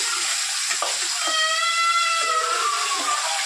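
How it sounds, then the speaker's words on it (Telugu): Chicken fries in oil in a home kitchen: a steady close sizzle with stirring scrapes, and a thin whistling tone drifts through the middle. "కొంచెం ఆయిల్ వేసి చికెన్ ఉడికిద్దాము"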